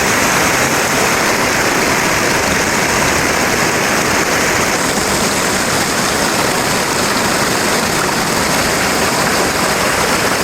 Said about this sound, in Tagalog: napakalakas ng agos